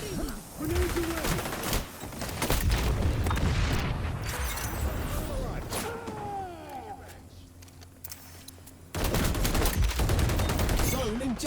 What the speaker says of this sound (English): Grenades away.